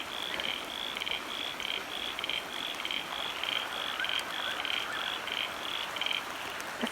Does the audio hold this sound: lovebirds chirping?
no